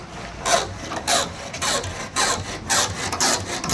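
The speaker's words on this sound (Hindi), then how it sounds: "आरी की पैटर्न पर इसको घिस के उतारने की कवायद चल रही है।" A thin iron wire is drawn back and forth like a saw to cut out an old car windshield, giving rhythmic rasping strokes, about six of them, loud and close with no talk.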